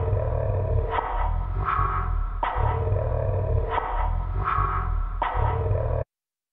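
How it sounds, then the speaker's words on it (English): Growling, demon-like voice sample over a looping percussive rhythm, from the Ghost in the Machine CD, heard alone; steady, dense texture with regular hits about every 0.8 seconds across six seconds. "it sounds like a little demon voice with a little bit of like percussion rhythm in the background"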